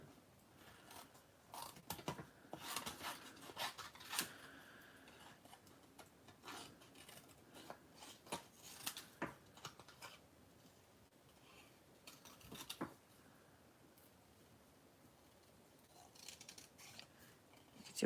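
Scissors snip around a card shape in a watercolour craft session, a long run of close, uneven cuts and rustles that pause and restart, with no talking.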